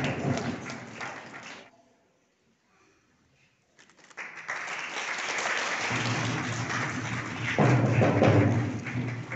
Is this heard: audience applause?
yes